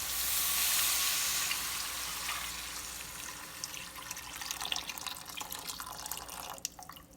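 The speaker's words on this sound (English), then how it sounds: "So since this is ready, I'm going to go ahead and pour my mushroom water." Djon-djon mushroom water is poured into a pot of washed rice, a soft steady rush of liquid that fades into scattered drips and light sizzling, fairly quiet and close, with no talk.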